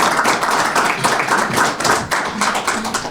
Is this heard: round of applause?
yes